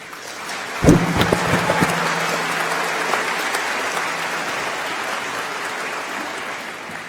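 A large commencement crowd applauds award winners with a sustained, rain-like roar of clapping, starting with a few sharp, loud claps before settling into an even, steady wash.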